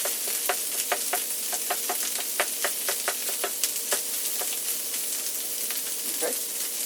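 Corned beef hash frying in a pan, a steady bright sizzle with frequent crackling pops that runs unbroken throughout, with no talking.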